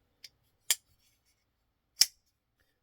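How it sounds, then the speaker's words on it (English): An MBK Honey Badger folding knife designed by Ray Laconico, its blade flicked open: a few crisp, sharp metallic clicks spaced apart in near silence, close and clear. "listen to that, and look at just the reverse flick off that blade"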